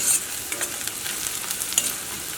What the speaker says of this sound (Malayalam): നമ്മുടെ സവോള നന്നായിട്ട് മൊരിയണം